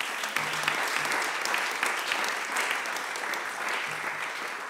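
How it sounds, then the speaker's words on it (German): Audience applause at the closing session of a sports conference in Vienna, steady, fairly dense clapping from a crowded room continuing evenly throughout, slightly distant. "Gerne noch einmal einen Applaus für die drei."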